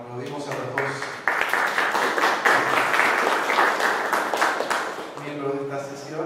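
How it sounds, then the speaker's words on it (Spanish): A seminar audience in Brasília applauds two session speakers, a dense wash of clapping that rises abruptly, holds steady for several seconds, then fades as a voice resumes talking. "aplaudimos a los dos"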